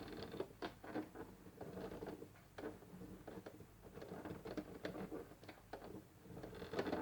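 A domestic sewing machine with its handwheel turned slowly by hand while threading, giving soft irregular mechanical clicks and ticks of the needle mechanism, quiet and close, with no talking.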